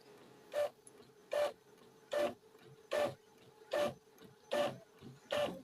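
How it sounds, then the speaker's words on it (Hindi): Epson L3210 inkjet printer running a copy job, its print head carriage sweeping back and forth in seven evenly spaced mechanical passes with a steady low motor hum between them, close and clear with no voices. "जहाँ आप प्रिंट की कमान देंगे तो ये कापियाँ सारे निकल के आपके सामने आ जाएंगी"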